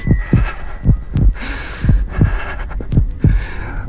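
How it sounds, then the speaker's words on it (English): A heartbeat sound effect in an audio drama of Edgar Allan Poe's The Tell-Tale Heart: loud, close, deep double thumps beating at a steady rhythm, about eight beats alone over a faint hum. "the heart beat on, but at length it ceased"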